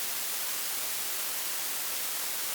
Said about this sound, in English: For example, if we take this noise